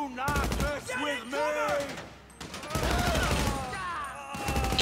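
Bursts of gunfire in a shootout in GTA 5 Online, broadband cracks recurring several times across the stretch, loud and close, mixed with game sounds and a voice.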